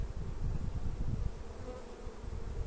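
Honeybees swarm thickly around a crowded hive in spring, when a rapeseed honey flow is expected. Their dense, steady buzzing hums close by throughout, with no voices over it.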